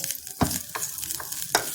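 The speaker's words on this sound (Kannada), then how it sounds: "ಒಂದು ನಿಮಿಷ ಹುರಿದ್ರೆ ಸಾಕು ಈಗಾಗಲೇ ಅರ್ಧ ನಿಮಿಷ ಆಯಿತು ಇನ್ನೊಂದು ಸ್ವಲ್ಪ ಹುರಿತೀನಿ" Tender mango leaves frying in a pan give a soft continuous sizzle, broken by a few scraping stirs at irregular intervals, close and moderately loud.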